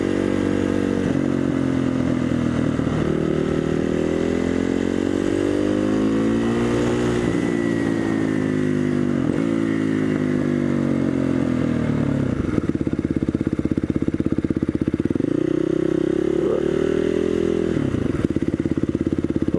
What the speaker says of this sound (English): I'm going to just take my bike in there and park it somewhere on the curb.